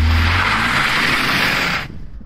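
An E0 BMW 630 does a burnout with its wheels spinning, a loud rough roar and tire hiss running for about two seconds before dropping away abruptly. No one speaks.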